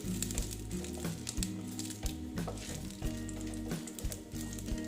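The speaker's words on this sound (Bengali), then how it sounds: "তারপরে দিচ্ছি শুকনো লঙ্কা দিয়ে এটা একটু ভেজে নিচ্ছি" Dried red chillies frying in hot oil alongside cumin seeds, a continuous crackling sizzle with rapid sharp pops, close and steady, no talking.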